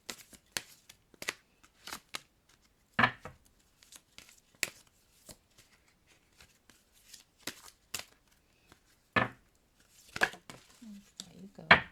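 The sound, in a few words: shuffling tarot cards for a reading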